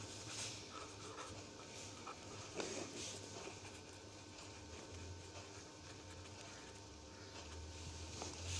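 A pen writing on paper in a practical chemistry copy, a faint soft scratching with a few light taps, quiet and close against a low steady room hum, with no talk.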